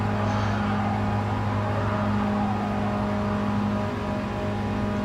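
A 1965 MINI Cooper S runs flat out along a straight, its engine holding a loud, steady drone close up, with no voices over it.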